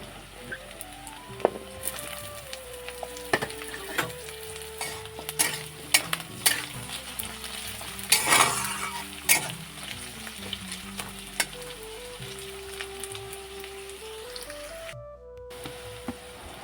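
Cut potatoes frying with onions in a pan for chicken chorchoti, a steady sizzle with repeated scraping and clinking of a spatula stirring against the metal, close and continuous.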